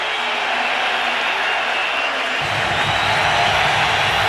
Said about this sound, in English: The crowd begging the Seahawks defense to hold